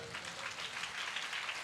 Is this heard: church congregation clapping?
yes